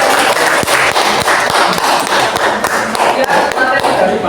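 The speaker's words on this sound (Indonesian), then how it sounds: "Tepuk tangan buat kita." A junior high school class claps hands together in a loud, fairly rhythmic burst of sharp slaps that continues throughout, close and busy.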